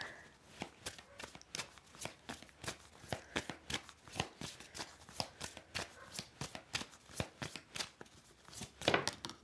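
Tarot cards being shuffled by hand, a rapid run of crisp riffling slaps repeating steadily, close and fairly loud with no talking.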